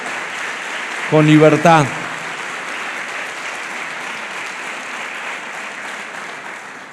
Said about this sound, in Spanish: dale un aplauso al Señor otra vez, por favor